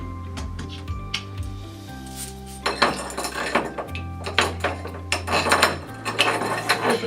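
Metal washers clinking onto a bolt while assembling a wheel assembly, several sharp metallic clinks and taps in uneven bursts, close and fairly loud, with light handling noise and a faint musical hum beneath.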